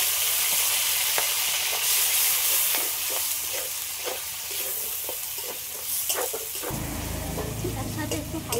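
Five-spice seeds and a mustard-poppy seed paste crackle and sizzle in hot oil in a pan beside fried hilsa fish heads. The frying is loud and steady with stirring scrapes throughout, and the sizzle swells near the end.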